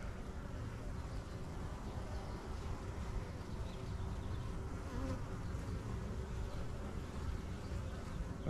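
Honey bees buzzing around an open new beehive during an inspection, a dense, continuous droning hum close by and fairly quiet, with no clear talk.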